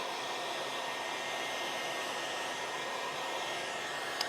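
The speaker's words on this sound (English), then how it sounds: "I'll hit it with a heat gun" A heat gun blows hot air in a steady, even roar that holds unbroken at close range, with no voices.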